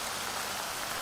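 Hard rain falling outdoors at a rally outside Apple's headquarters, a dense steady hiss of rain on surfaces, continuous and even with no voices.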